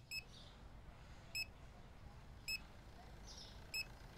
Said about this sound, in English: I heard the beep on the other side.